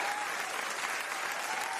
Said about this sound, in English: I think you all should give yourselves a round of applause for that.